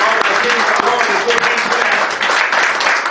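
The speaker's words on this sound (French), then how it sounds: "Vous manifestez votre joie en acclamant ce matin." A church congregation claps and cheers together, a dense, steady wash of applause that fills the whole stretch at close range with no pauses.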